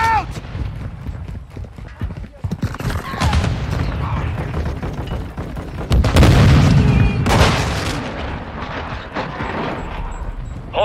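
A frag grenade bursts in a Call of Duty MWII online multiplayer match as a heavy, booming blast partway through, surrounded by ongoing combat noise and spoken voices.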